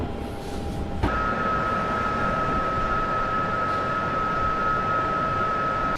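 A low, steady background drone picked up through a microphone, a continuous rumble that gains a sustained whining tone after about a second and holds unchanged to the end, with no voices.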